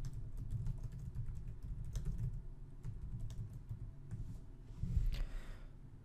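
Steady computer keyboard typing while writing Unity editor script code, fairly quiet and continuous with a slightly louder burst of keystrokes near the end, no talking.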